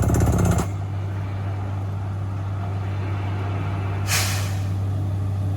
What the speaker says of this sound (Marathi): आता शिक चालू केलेला मित्रांनो बोर.